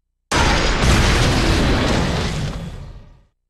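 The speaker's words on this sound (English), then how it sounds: "8 trigrams, 64 bombs." Eight Trigrams 64 Palms attack landing in Naruto Ultimate Ninja Storm 3 Full Burst, Lee versus Neji: one loud, close explosive boom that roars on for about three seconds before cutting off, with no voices.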